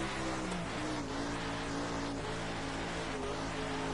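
A race car engine held at part throttle in an online racing video game, with a steady droning tone that shifts slightly in pitch and stays loud and continuous throughout, with no talk over it.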